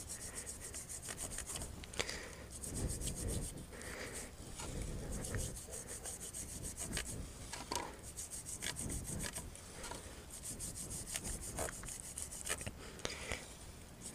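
Grease is brushed off a motorcycle chain sprocket with continuous, close scrubbing and rubbing strokes that run steadily for the whole stretch, loud and without talk.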